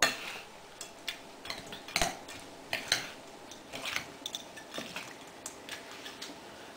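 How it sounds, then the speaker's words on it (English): Quinoa salad with pecans, lemon juice, garlic and cumin is tossed in a bowl, giving irregular clinks and scrapes of a utensil against the bowl, some sharper taps among softer rustles, close and fairly quiet. "I'm going to mix that up good."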